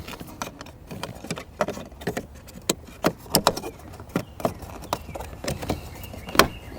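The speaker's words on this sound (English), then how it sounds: "We'll take this little trim panel." Plastic trim panel being pressed back into place inside a Lexus LS cabin, heard as a string of sharp, close clicks and snaps with light rattling, spaced irregularly and growing louder toward the end, without any talking.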